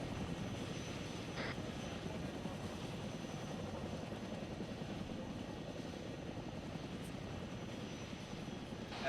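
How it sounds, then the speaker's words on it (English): A twin-rotor Chinook helicopter in the military game Arma 3 drones steadily overhead, a loud, unbroken rotor and engine roar that holds for the whole stretch with no voices. "That Chinook almost landed on me, man."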